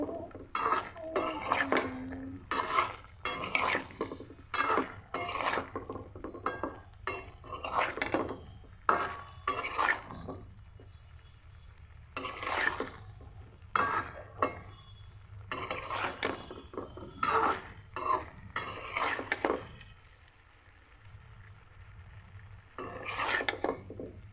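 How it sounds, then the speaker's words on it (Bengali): A utensil stirs rice seasoned with salt and chili powder in a cooking pot. Repeated rasping scrapes against the pot come in uneven bursts, close and clear, with short pauses and no speech. "চাউলটা ভালো করে নেড়ে দিচ্ছি"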